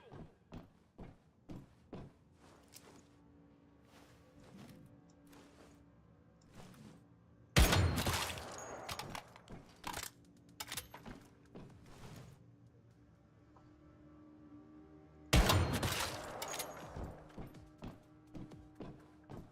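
Gunfire in the Once Human video game: two sudden loud bursts several seconds apart, each trailing into a rattling spell, amid scattered light clicks and footstep-like taps.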